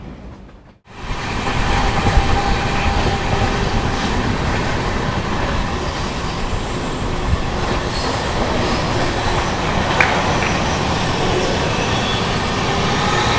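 The Yesvantpur-Gorakhpur Express runs at speed on an Indian main line, a loud, continuous roar of wheels and carriages with rhythmic rail clatter and faint squeals, heard from on board after a brief quiet opening.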